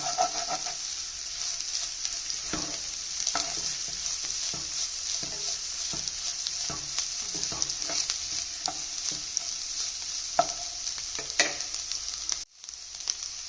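Eggs sizzle in a pan alongside vegetables, a steady hiss with scattered stirring scrapes and clicks throughout, fairly close and without talk.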